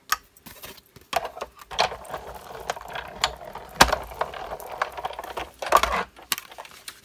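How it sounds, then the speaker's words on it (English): A Big Shot die-cutting machine cranks a scallop circle through a magnetic cutting pad, giving a run of ratcheting clicks and gear whirs with sharper clacks scattered throughout, close and clear, no voices. "let's get the Big Shot out real quick, and we'll cut out our scallop circle"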